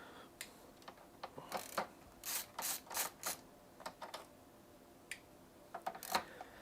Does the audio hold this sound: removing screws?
yes